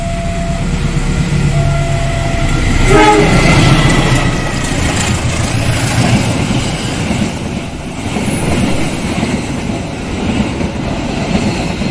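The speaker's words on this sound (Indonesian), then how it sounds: "Oke, kita tunggu kereta apinya." A passenger train rolls past on an Indonesian railway line, a loud continuous rumble and roar close by with rail clatter and a brief wheel squeal, sustained for the whole stretch without talk.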